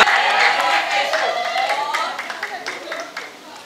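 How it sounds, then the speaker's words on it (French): A church congregation applauds and cheers for Jesus during a testimony service, a dense wash of clapping and crowd noise that gradually thins and fades, with voices mingled in. "Acclame très fort pour le Seigneur Jésus."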